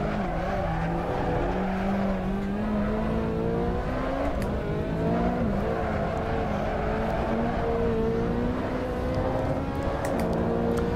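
A Corvette ZR1 in a racing sim at Silverstone International holds a loud, continuous engine drone through a slide, its pitch wavering up and down with throttle, faint tire scrub underneath.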